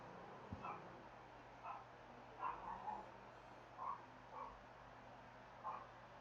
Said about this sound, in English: I don't know if you can hear my dogs barking in the background